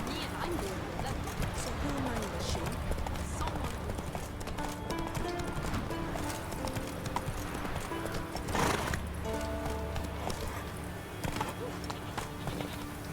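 Horse hooves clop rhythmically and continuously during riding in The Witcher 3, with a whinny in the mix, all layered under game music and spoken commentary.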